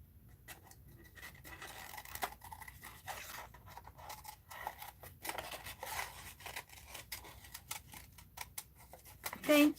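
Scissors snip repeatedly through a paper bag during an art journal session, a steady series of close, crisp cuts and rustles with light handling noise throughout.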